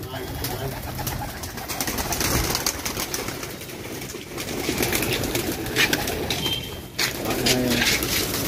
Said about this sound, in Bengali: পায়রাগুলো দেখতে পাচ্ছ এখন গেট খুলে দেওয়া হয়েছে তো এগুলো এখন বেরিয়ে যাবে